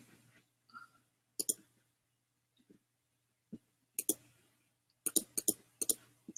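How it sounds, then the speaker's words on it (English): Computer mouse buttons clicked repeatedly, sharp close dry clicks arriving singly and in quick bursts with quiet gaps between, no speech. "I'm like clicking on every button."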